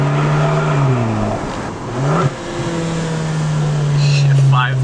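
A VW MK7 Golf with a Unitronic turbo elbow revs its engine in a steady, loud drone that dips and climbs again, with a voice speaking over it.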